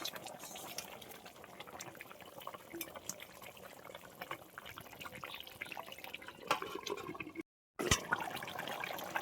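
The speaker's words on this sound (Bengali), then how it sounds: "আমি এবার দিয়ে দিচ্ছি পরিমাণ মতন জল" Water poured into a pan of fish curry where the spice paste has released its oil, a steady low splashing and sizzling wash that runs on at moderate loudness, broken by a brief gap near the end.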